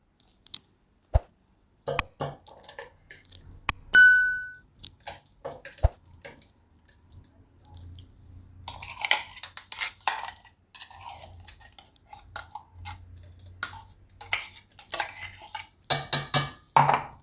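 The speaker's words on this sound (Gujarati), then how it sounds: "તો હવે આપણે આને મિક્સરની મોટી જારમાં નાખી દઈએ." Ground coconut goes into a large mixer jar in a quiet kitchen, with sparse clicks and taps, then soft scraping, thuds and small clinks of a spoon against the jar.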